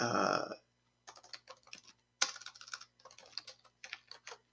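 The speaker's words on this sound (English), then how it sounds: "So just type up my sample text" Fingers typing on a computer keyboard, quick irregular clusters of close, crisp key clicks separated by short pauses, heard alone after a brief opening noise.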